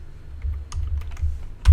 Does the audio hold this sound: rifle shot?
no